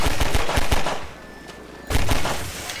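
Rapid bursts of gunfire in the shooter game Half-Life 2, loud and close, a quick run of shots, a brief lull, then another burst, with no talking.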